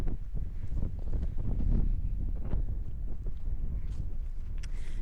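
Strong wind buffets a microphone on a solo hike near rocks, a loud continuous low roar with gusting swells throughout and no voices.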